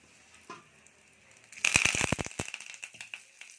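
Dried red chillies dropped into hot oil crackle and sizzle in a sharp burst of pops that fades into lighter spitting, close and fairly quiet with no talking.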